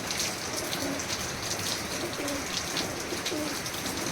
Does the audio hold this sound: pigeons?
yes